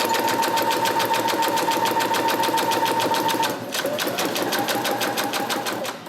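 A Brother Innovis A16 electronic sewing machine stitches under pedal control at medium speed, with a fast, steady mechanical whirring and needle clatter. It slows briefly partway through, then keeps running close and fairly loud with no other sound.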